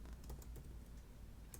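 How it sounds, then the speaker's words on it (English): Rapid keystrokes on a computer keyboard tap in a quick, uneven run, quiet and close, while someone types a sentence into an online input box, with no voices. "Let's say I'm typing a sentence."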